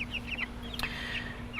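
Chickens cluck in short, scattered bursts over a steady low hum, close and moderately loud.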